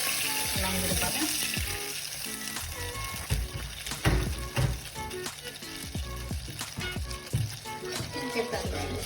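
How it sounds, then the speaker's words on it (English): Vegan butter and vegetable stock sizzle and bubble steadily in a hot pan, with occasional clinks and stirring knocks, all under background music. "Now we're going to add 150 milliliters of veg stock along with the butter."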